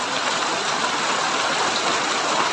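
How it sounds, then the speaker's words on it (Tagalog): Heavy rain pours steadily and loudly outdoors on the way to a farm, a dense, unbroken hiss filling the whole stretch with no voices. "Naabot na kami na napakalakas na ulan."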